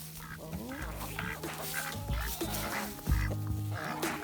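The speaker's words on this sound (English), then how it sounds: "Ducks are mad at that young rooster." Several ducks, agitated by a young rooster, quack noisily at close range, overlapping calls in a busy chorus with some scuffling in the background.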